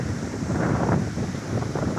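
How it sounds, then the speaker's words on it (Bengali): Strong wind buffets the microphone beside an eroding riverbank in Rampur, Lemua, Feni, a dense low rumbling roar that surges and eases over two seconds with no voices. "অনেক বাতাস হচ্ছে"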